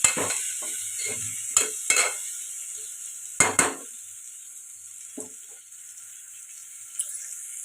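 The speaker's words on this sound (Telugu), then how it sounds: "ఇప్పుడు బాగా కలుపుకొని ఒక నిమిషం పాటు" Tomato dal with salt is stirred and fried in a pot: a quiet, steady hiss sits under a few sharp scraping and clinking stirs near the start, then thins out to the faint hiss alone.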